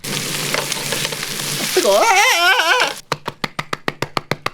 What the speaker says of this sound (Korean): 저 여기다가 이 버터 이 덩어리들에다가 계란 이거 하나만 해서 그 스크램블 레그좀 할게요.